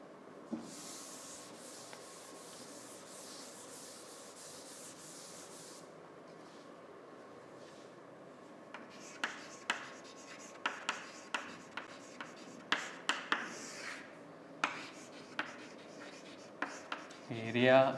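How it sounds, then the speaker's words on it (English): A pen scratches steadily across paper while a table is written out by hand, a long continuous stroke followed by shorter separate strokes and taps, faint and close. "Now let me write the table."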